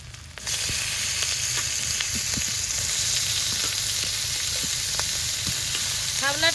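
Water lily stems frying with coconut, salt and turmeric in a pan give a loud, steady sizzle close by that starts abruptly, with scattered light scrapes and taps from stirring throughout.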